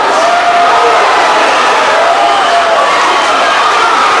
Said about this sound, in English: Crowd loved it too.